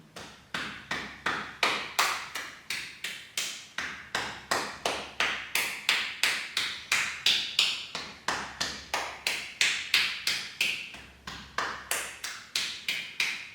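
Palms tap against the inside of the arms in a brisk, even rhythm, dozens of close, light slaps in quick succession with a few short pauses, no talking.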